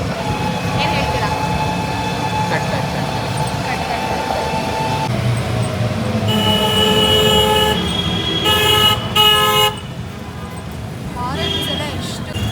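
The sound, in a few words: vehicle horns honking in street traffic in Gorakhpur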